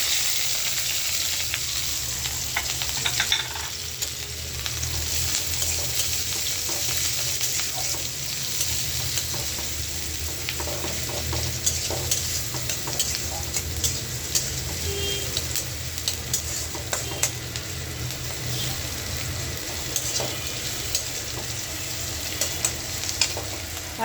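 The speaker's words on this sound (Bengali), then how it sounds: "এখন এই যে পেঁয়াজ আর কাঁচামরিচ দিয়ে দেবো" Onion and green chilies frying in hot oil with a dried red chili in a kadai for dal chorchori, a loud, dense, continuous sizzle with scattered crackles and occasional stirring scrapes, close up throughout.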